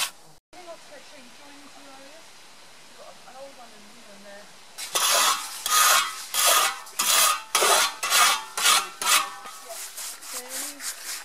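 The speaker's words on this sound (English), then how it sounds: "you can literally start it off with your hand and then slide it on with a trowel" A trowel scrapes mud plaster across a wall in steady rhythmic rasping strokes, loud and close, following a quieter stretch with faint background voices.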